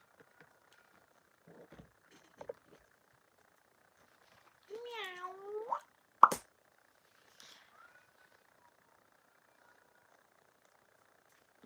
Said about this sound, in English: That pussycat's been crying all day long outside.